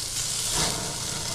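Beef ribs sizzling on a Fourth of July cookout grill, a soft steady hiss of fat and juices that swells briefly in the middle of the short stretch.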